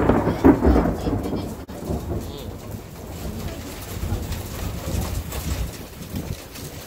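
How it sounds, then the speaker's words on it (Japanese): Thunder rolls through a spring hailstorm in Fukaya, Saitama, in April: a loud, sustained low rumble with a sharp crack near the start, continuing as a steady roar with a faint voice at times. "すごいな、雷が。"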